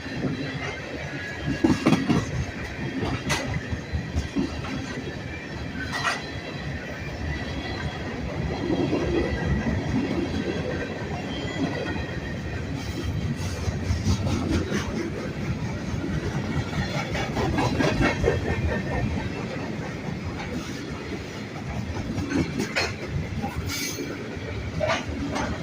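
A long Norfolk Southern freight train rolls past at night in industrial Columbiana, with continuous rumbling railcars, rhythmic wheel clatter and intermittent squeals from wheels and bearings, close and loud throughout.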